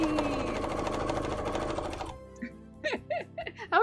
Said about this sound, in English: we should probably get back to sewing now. The sewing won't do itself!